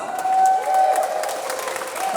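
Audience at the 2019 INSPIRE Awards, a women's awards event, applauding and cheering in a hall: a steady wash of clapping with a sustained tone running through it, swelling briefly and then holding at a moderate level.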